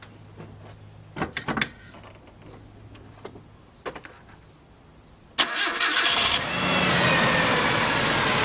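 A car engine cranking and catching on its first start after a Seafoam, Marvel Mystery Oil and Lucas engine treatment, preceded by a few clunks and clicks, then a loud starter burst settling into a steady rough idle, close by.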